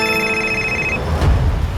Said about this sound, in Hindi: इसी वक्त एक फोन आना था,